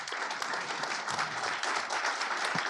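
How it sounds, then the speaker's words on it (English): A conference audience at a green governance day event applauds steadily, a dense wash of clapping hands that holds at an even level throughout with no talk over it. "if you may stand and receive the round of applause"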